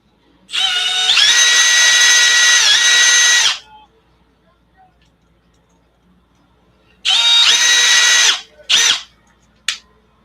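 Power drill whirring in bursts as it drives large screws into an ARRMA RC car, one long run, a pause, then two shorter spurts and a final brief blip, close and loud.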